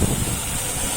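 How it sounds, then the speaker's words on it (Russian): Steady outdoor wind rushes and buffets a microphone during a large drone's landing, a constant broadband roar with no pauses and no voices. "Дует ветер"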